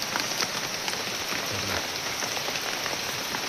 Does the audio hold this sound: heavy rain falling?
yes